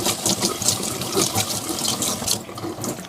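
Fish tank filter parts soaked under running water in a sink, a close, steady splashing and trickling stream for a few seconds with no talking.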